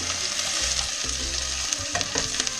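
Onions, peppers and carrots sizzle in olive oil in a pan for beef chili, a constant close frying hiss broken by several sharp scraping stir strokes and no talking.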